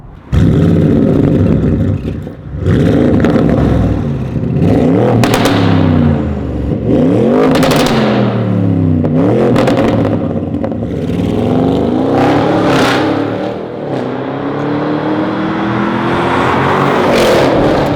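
An Audi RS6 estate's engine revs hard and loud, with repeated rising and falling sweeps as the throttle is blipped and held, a continuous roaring drone throughout with no talking.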